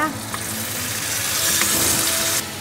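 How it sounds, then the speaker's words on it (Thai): Drained canned white beans are stir-fried in tomato sauce in a pan, giving a steady close sizzle with light stirring scrapes throughout. "ใส่ไปผัดไปด้วยกันเลยนะคะ"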